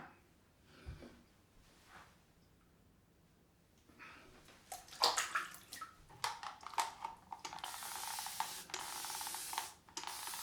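Quiet at first, then soft splashing and spraying of water with rubbing, wet sounds building louder toward the end, close by.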